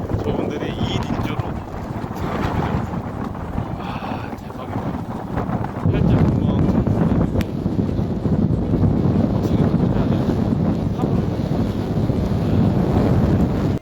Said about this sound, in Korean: 너무 바람이 세가지고 그냥 이제 철수해서 나왔거든요